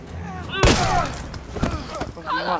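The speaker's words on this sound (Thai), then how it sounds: "โอุ้ยยิงโดนคาร์ลอนเหรอ" In Resident Evil 3 Remake, a single sharp, loud gunshot cracks out, then softer impacts and game dialogue voices follow.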